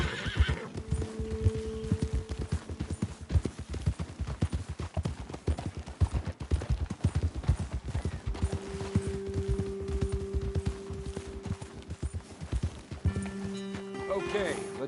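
Hooves clop in a fast, steady rhythm from several horses in Red Dead Redemption 2, with occasional whinnies rising over the running gait and voices talking at times.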